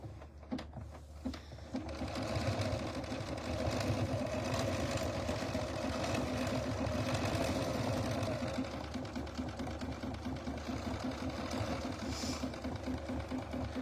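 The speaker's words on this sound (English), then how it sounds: "we're going to do our satin stitching around our gold fabrics" A sewing machine satin stitching around gold fabric on a mini quilt runs steadily and close, a fast, even mechanical chatter that starts after a brief pause and continues unbroken to the end.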